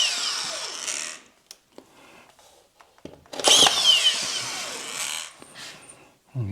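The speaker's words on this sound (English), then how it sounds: "And get some screws in." A power drill whirs in short bursts, driving screws through drywall into an ICF wall, with quiet pauses and handling clatter between runs and one longer, louder drive midway.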